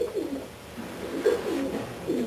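A red checker racing pigeon cooing close by, soft repeated throaty coos in a low rolling rhythm, with no other sounds.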